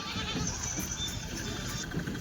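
Rajasthani billy goats that have just arrived by vehicle bleat in a steady, busy farmyard noise. Several bleats rise from a dense, close mix of animal sounds.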